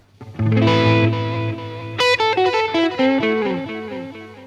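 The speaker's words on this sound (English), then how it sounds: "So hopefully you can hear that the delay repeats got a little bit more dark and woolly." A worn UAD Starlight Echo Station tape echo repeats a distorted guitar phrase, with dark, woolly delay trails and wobbling wow and flutter. Sustained notes are followed by a quick run of plucked notes, loud and alone.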